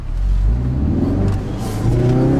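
A 2017 Ford Focus RS engine pulls hard under acceleration, a loud continuous throaty drone heard from inside the car that climbs in pitch over a couple of seconds.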